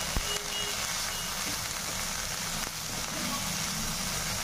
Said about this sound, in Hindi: मसालों के साथ इनको फ्राई कर लेंगे, बहुत अच्छा कलर आएगा।